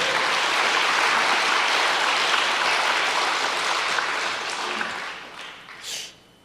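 Sustained applause from a church congregation fills the room for several seconds at a steady, dense level, then tapers off and fades, with a final small burst before it ends.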